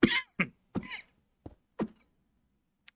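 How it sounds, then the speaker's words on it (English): A person coughing in a short series of five or six dry, close coughs that trail off, with no other sound between them. "And I'll cough a little bit more as I go along."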